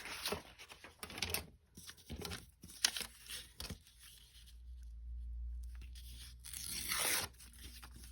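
Scrapbook paper from a pad is torn by hand in several short, quiet rips, with crinkling handling noises between them and a longer tear near the end.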